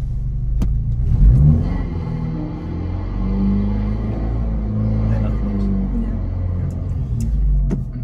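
A manual car's engine rumbles low and close while the driver finds the clutch bite point, with one rev swelling early and then a steady idle-like drone; muffled talk is mixed in.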